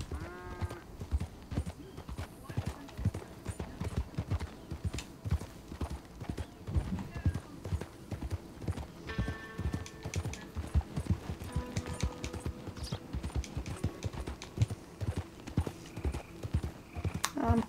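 Horse hooves clip-clop in a steady, close rhythm as a rider travels in Red Dead Redemption 2, with a few brief whinny-like tones and game ambience around them and no talk over the hoofbeats.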